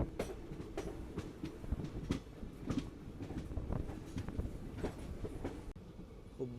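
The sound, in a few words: train entering Hubballi South railway station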